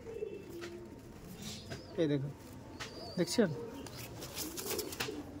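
Green Madras pigeons coo in short throaty bursts around the two- and three-second marks, over a steady background hum, while someone speaks nearby.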